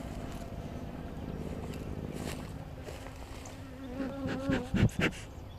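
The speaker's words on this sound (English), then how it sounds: "Yep, guard bee here." A guard honeybee buzzes close by near a hive during an inspection, a steady insect drone throughout with brief louder passes near the end.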